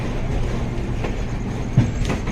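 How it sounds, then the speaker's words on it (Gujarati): An express train slowing toward a station near Lonavala rumbles along with low, steady rolling noise and faint rhythmic wheel clatter, no voices. "હમણાં જ અમારી ટ્રેન ધીમે ધીમે સ્ટેશન ઉપર જશે"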